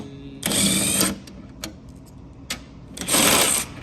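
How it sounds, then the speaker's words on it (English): A 9/16 socket ratchet wrench turns the top bolts of a TRAX X2 chain tensioner, giving two close bursts of rapid ratcheting clicks separated by a few isolated ticks. "So in any order, this is our 9/16 socket."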